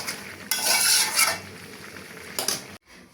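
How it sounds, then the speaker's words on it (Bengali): A spoon scrapes and stirs cooked vegetables in a pot in two clattering bursts, a longer one followed by a short one, with quieter sizzling between them. "এখন লাড়া চাড়াটা দিয়ে দিচ্ছি।"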